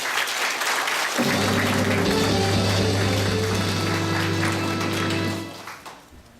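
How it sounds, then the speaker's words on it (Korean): Large hall applause at the 28th founding general assembly of the Korea Overseas War Veterans association, honoring a newly appointed secretary general; loud continuous clapping over a steady hum, tapering off in the final second. "큰 박수 부탁드리겠습니다"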